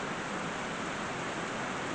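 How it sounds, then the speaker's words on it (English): Steady, even rain falling outside a car restoration shop during a drought, a continuous broadband hiss with no breaks that is moderately loud and heard on its own throughout. "So this rain is actually very much needed in my area."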